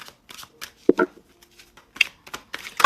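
Tarot cards being shuffled in a series of quick, papery riffles and snaps, close by, with a few brief pauses between bursts.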